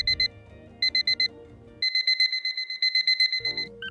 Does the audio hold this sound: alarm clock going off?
yes